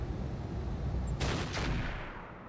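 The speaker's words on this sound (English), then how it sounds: "Terrible shot with the artillery again, but we do hit the Hunchback." Artillery fires in RogueTech, a BattleTech mod, as two quick sharp reports in close succession over a steady low background rumble, with no talk.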